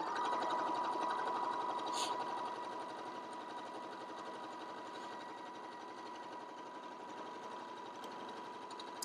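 Sewing machine stitching fabric strips for an octagon throw pillow, a steady fast mechanical whir that runs unbroken and eases slightly quieter partway through, heard close and alone.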